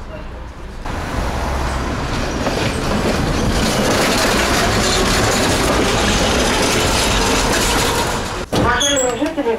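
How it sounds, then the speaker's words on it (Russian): A tram rolling through the streets of Samara, Russia, heard from inside the car: a steady, loud rumble with rail clatter throughout, then a brief wheel squeal near the end. "поэтому прыгаем в трамвай."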